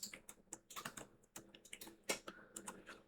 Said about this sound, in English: here you're going to type in chk dsk